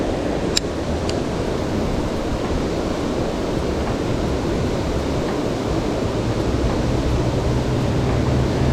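Water spills over a waterfall at an abandoned mill, a loud continuous roar with low rumble and some wind buffeting on the microphone, steady and unbroken with no talking.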